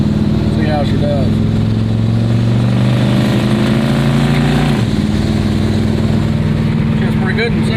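A 1963 push-button Belvedere wagon out on a country drive, its engine running steadily with a loud low drone that shifts pitch as it changes gear, while someone talks over it.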